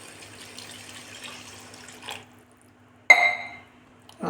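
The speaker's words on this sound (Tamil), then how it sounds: "இப்போ என்ன பண்ணலாம், 1 கப் தண்ணி சேர்த்துக்கலாம்" About one cup of water is poured into a pan of mushroom gravy in a home kitchen. A short, sudden splash and trickle rise over a low background hum, with a faint drip after it.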